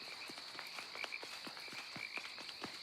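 Frogs croak steadily in a dense outdoor chorus, with repeated short low calls over a constant high trilling drone, moderately close and continuous throughout, with no voices.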